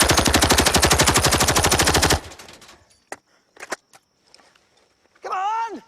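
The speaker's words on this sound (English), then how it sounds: "It's a bit different when you're shooting at real people. Covering fire!" Sustained machine gun covering fire in an action movie battle scene, a loud rapid burst lasting about two seconds, followed by scattered clatter and a brief creature-like cry.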